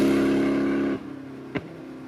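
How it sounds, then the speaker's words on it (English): A supercharged car's exhaust roars loudly with supercharger whine, then drops off abruptly, followed by a brief sharp pass-by burst and a low idle rumble. "You hear the supercharger. You really hear the supercharger."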